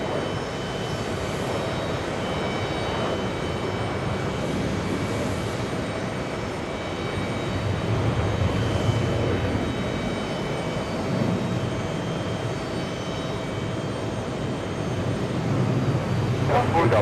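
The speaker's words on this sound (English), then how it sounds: "That is Austrian, flying in from Vienna on short final." An Austrian Airlines jet from Vienna on short final into JFK airport makes a steady, broad roar of engine noise that swells gradually, with radio chatter and voices faint underneath.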